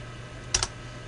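A couple of quick keystrokes on a computer keyboard, two soft close clicks in rapid succession over a faint steady hum.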